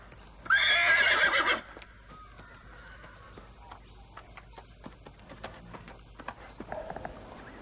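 Young horse neighing loudly during a horse-handling demonstration with a saddle horse, one long whinny early on followed by quieter hoof clops and ticking sounds.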